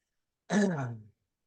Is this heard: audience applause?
no